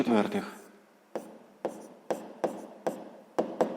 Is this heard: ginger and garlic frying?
no